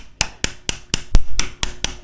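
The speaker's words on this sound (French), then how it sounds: "La fameuse fonction marteau." A ratchet wrench used as a hammer strikes a Rieju trail motorcycle, giving eight sharp metallic knocks at a steady, fairly quick rhythm, loud and close with no voices.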